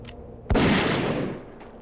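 A dwarven hunter's gun fires in World of Warcraft Classic, one sharp loud report followed by a rolling burst of shots that trails off, with a couple of faint lighter pops after.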